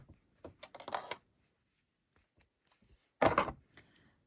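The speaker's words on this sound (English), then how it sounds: "grab my scissors, and then I'm going to snip this yarn" Scissors snip yarn close to a small crocheted stuffed head, giving two brief bursts of soft cutting and rustling, near and quiet with silence in between.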